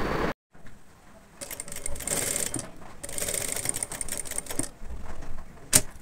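Bursts of a sewing machine stitching a katori blouse, rapid mechanical clatter in several runs separated by short pauses, close and alone.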